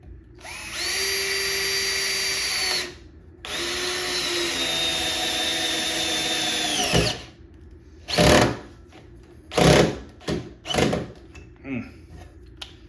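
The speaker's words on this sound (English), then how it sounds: "we'll try the Makita first on speed setting 1 to see how that works" Makita cordless driver running on speed setting 1, a steady high whine in two sustained bursts of a few seconds each, followed by several short separate pulses of the motor, loud and close with no talk.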